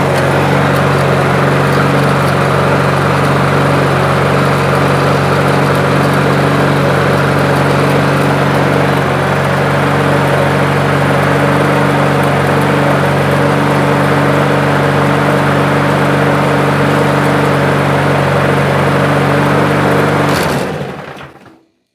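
A Toro walk-behind lawn mower engine with a plastic carburetor, running without its blade after a carburetor repair, a loud, close, steady drone that continues evenly for about twenty seconds and then cuts off abruptly at the end.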